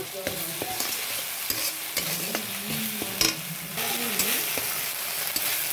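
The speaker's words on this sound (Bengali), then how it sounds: "মশলাটা ভালো করে কষিয়ে নেব।" A ginger, garlic, onion and cumin paste sizzling in a pan as it is stirred and scraped in repeated strokes, close and quiet, with no talk.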